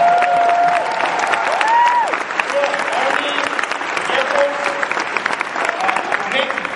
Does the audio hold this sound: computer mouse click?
no